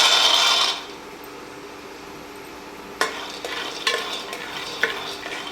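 Peanuts frying in a little oil: a burst of loud sizzling at the start, then a quieter stretch followed by several sharp clinks and scrapes of a utensil stirring them in the pan.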